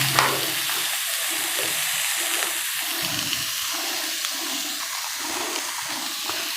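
Mushrooms being sautéed in a kadai give a steady, close sizzling hiss throughout, with soft scraping stirs coming and going beneath it.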